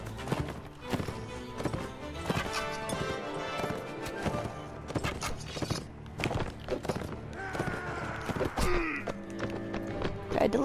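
Horses gallop in the Mount and Blade medieval combat game, with dense rapid hoofbeats running throughout alongside clashes, thuds and other busy battle sounds, fairly loud and continuous.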